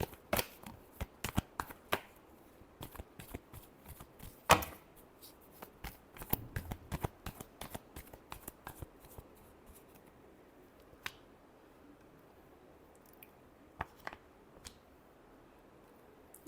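Tarot cards being shuffled by hand, a run of quick, crisp riffling slaps and flutters in irregular bursts, fairly close and quiet, thinning out toward the end with no talk over it.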